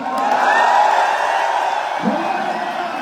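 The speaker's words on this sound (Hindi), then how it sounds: "तो जोर से ताली बजा के हल्ला मचा के बताओ मजा आया नहीं आया?" A big crowd at the AWPL Mahakumbh 2023 gathering cheers and whoops loudly in a sustained roar of voices, with a few hollers standing out.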